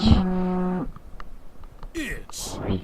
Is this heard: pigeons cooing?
no